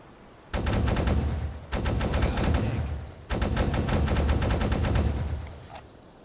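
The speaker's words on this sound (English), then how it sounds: "Only thing else we can do is rake it with the anti-aircraft gun" Rapid automatic bursts from a U-boat's anti-aircraft gun in the Uboat game, three long strings of close, loud, evenly spaced shots separated by short pauses.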